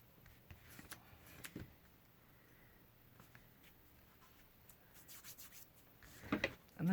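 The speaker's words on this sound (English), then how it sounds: "I'm just going to burnish these edges down because this was face down in the trimmer" Paper card edges are rubbed down with a burnishing tool after trimming, giving soft, faint rubbing strokes in short bursts that grow a little louder toward the end.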